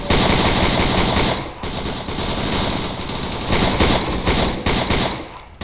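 Gunfire in the video game Arma 3: loud, sustained automatic bursts close by, rattling almost continuously with only brief gaps.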